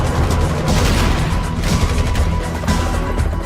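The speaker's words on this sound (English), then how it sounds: "the explosion happens a bit too quickly, but it still looks fantastic" Explosion in the video game GTA V Online: loud, dense blast and crashing debris rumble continuing throughout, with repeated sharp bursts layered over a heavy low roar.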